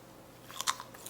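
A crisp crunch from biting into a layered Armenian/Iranian holiday dessert made with oat milk, a few short crackly bursts close to the mic in an otherwise quiet room.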